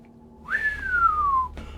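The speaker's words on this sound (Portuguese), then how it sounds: "Holmes assobiou." A man gives a single clear whistle that starts high and slides gradually lower, lasting about a second, close and distinct against a quiet background.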